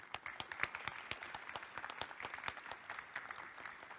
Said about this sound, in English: So let's give them a big applause for the successful start.